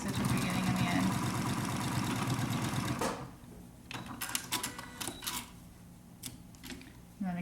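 A sewing machine stitches a cloth face mask in a loud, quick burst of whirring needle strokes for about three seconds, then stops, leaving faint clicks and fabric handling in the quiet.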